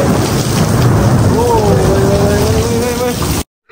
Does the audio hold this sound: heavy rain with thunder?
yes